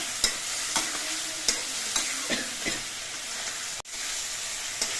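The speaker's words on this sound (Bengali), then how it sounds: "আর আমি যে মশলাটা গুলে নিয়েছিলাম সেই মশলাটা এবার এই মশলা দিয়ে কিছুক্ষণ কষিয়ে নিতে হবে" Spice paste for hilsa curry with green banana fries and is stirred in a pan with chilli: a steady close sizzle with regular spatula scrapes about every half second and one sharp knock near the end, no voices.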